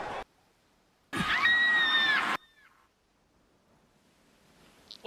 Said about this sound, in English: Maria Mannequin is screaming. She's got her screaming.